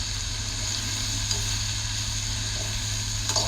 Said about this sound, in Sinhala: දැන් මේකට ඉක්මනට ලුණු පහ ටික කපලා දාලා තෙල් දා ගන්නවා.